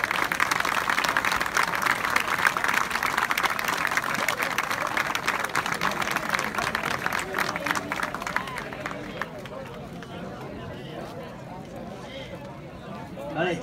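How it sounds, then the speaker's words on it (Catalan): Dense crowd applause at an outdoor rice-harvest festival, loud continuous clapping that fades to a quieter murmur of voices and scattered sounds toward the end. "Bon aplaudiment."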